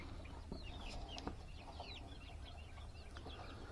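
Young chickens cluck and cheep close by in a steady stream of overlapping short calls, with no one talking.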